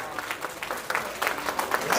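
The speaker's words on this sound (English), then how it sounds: "Come on, we can clap." Congregation at a Sunday morning church worship service clapping together, a steady run of hand claps with a few sharper peaks, busy and fairly close, with faint voices mixed in.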